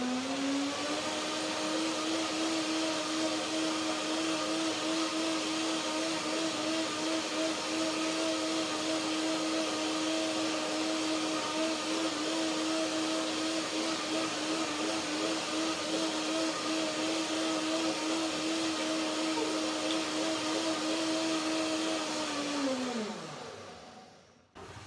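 A blender runs steadily for about 25 seconds, whirring through a lime almond cream dressing with a constant motor drone before spinning down at the end, with no voices over it.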